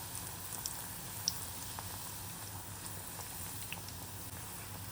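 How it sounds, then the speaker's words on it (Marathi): A single puri for a Shravan fasting recipe frying in hot oil as oil is spooned over it, giving a steady, soft bubbling hiss with faint crackles throughout, close and fairly quiet, with no talking. "एक एकच पुरी आपण तळणार आहोत या ते पुरीवर आहे ना असं तेल सोडायचं"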